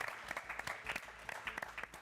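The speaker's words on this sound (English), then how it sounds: "Let's give them one last round of applause." A studio audience at a live show gives a round of applause, a steady, fairly faint wash of many hands clapping with uneven bursts and no voices over it.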